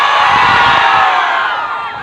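Election rally crowd at a campaign event in a market square, shouting and cheering loudly in a dense, continuous roar of many voices, with no single speaker standing out.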